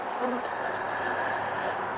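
Honey bees held in a cup buzz in a steady, continuous drone, close but fairly soft, with no voices over it.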